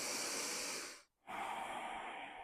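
Deep, steady breathing during a yoga flow, a long close airy inhale, a brief pause, then a long, even exhale, heard alone and up close.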